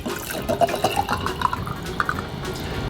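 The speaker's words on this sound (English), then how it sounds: "now let's pour our vinegar over it" Vinegar poured into a jar over an egg, a thin trickling, dripping stream of liquid with small rising plinks over about three seconds, close and fairly quiet.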